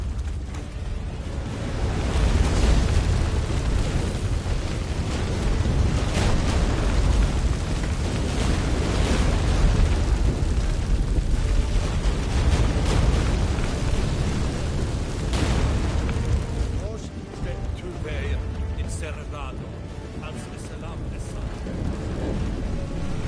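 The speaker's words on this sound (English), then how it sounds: "Shit. An earthquake? We must hurry." A deep, continuous rumbling roar of an earthquake in The Witcher 3 fills the scene, steady and heavy with crackling debris, easing slightly toward the end.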